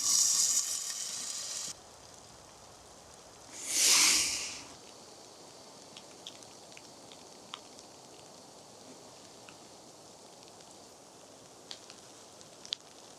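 Burger patty sizzling in a pan outdoors in the snowy deep woods, heard as two loud short hissing bursts near the start, then near quiet with only faint ticks once the heat is lowered.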